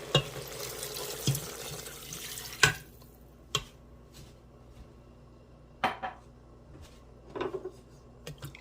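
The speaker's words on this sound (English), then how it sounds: "And to that, I'm going to add 2 cups of water." Two cups of water pour into an Instant Pot with chicken for Japanese curry, a rushing splash for a few seconds, followed by scattered clanks of metal cookware nearby.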